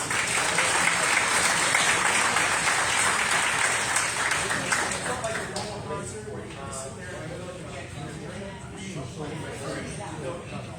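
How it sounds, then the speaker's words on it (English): Audience applause at a symphonic winds concert, a thick roar of clapping that starts strong and gradually thins and fades toward the end, with some voices emerging as it dies down. "So please give them a round of applause"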